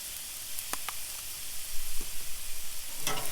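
Garlic frying on a Blackstone griddle gives a steady, close sizzle with a few sharper crackles and spatters popping out above it, and no talk over it.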